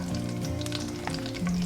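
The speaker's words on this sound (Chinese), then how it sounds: "我们中小火煎了4、5分钟，大概这个虾已经7、8成熟了" Shrimp frying in a pan over medium-low heat, a steady close sizzle with crackling pops that runs the whole time and is heard alone.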